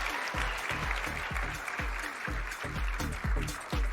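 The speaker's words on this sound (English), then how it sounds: "A big round of applause to them" Crowd applause at the TFT Vegas Open esports tournament, a dense sustained clapping wash, with heavy rhythmic bass thumps from music pulsing beneath it throughout.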